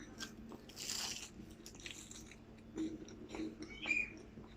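Someone bites into a crispy pastel de nata custard tart and chews it, giving faint, close crunches and soft mouth sounds with no talking.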